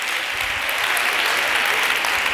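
Dense audience applause at a neuromotor-skills conference session using the BAPNE body-percussion method, a steady wash of many hands clapping at close range with no gaps, the crowd loud and sustained throughout.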